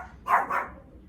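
A dog barks twice in quick succession, somewhat distant, over a low background hum.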